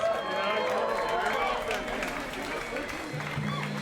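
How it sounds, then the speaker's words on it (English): A live audience at a poetry performance at WYCE's Jammies 2016 breaks into a round of applause, with a steady wash of clapping and cheering. "So give WYCE a round of applause"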